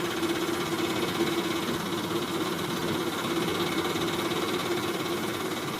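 A cartoon auto-rickshaw engine runs at a steady buzzing idle, constant and close throughout, with rain-like hiss blended in and no talking.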